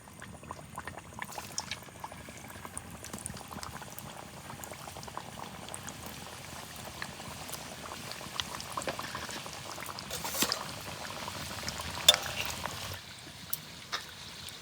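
Singaras bubble gently in warm oil in a soft, continuous seething fizz with occasional small pops, fairly quiet and steady throughout.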